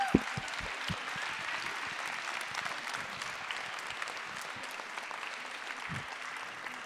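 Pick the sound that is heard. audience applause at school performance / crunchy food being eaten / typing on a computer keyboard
audience applause at school performance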